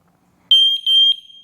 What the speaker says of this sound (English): if you activate one, they all go off